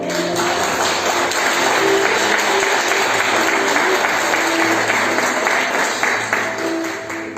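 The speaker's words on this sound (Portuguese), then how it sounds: "Vamos aplaudir o Senhor." Congregation at a church service applauding steadily, a dense, loud wash of clapping that holds for several seconds with faint tonal sounds underneath.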